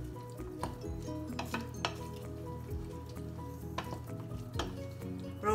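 Milk and peas being stirred in a pan, with a soft sizzle underneath, a spoon scraping and clinking against the pan now and then, and a few sharper knocks, all close up and without voices.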